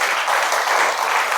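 Audience applause at a spiritual gathering, a dense steady wash of many hands clapping loudly throughout, with no talk over it.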